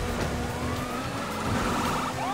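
Police car siren in GTA V, its wailing tone sweeping up and down over a steady engine drone and road noise, loud and close throughout.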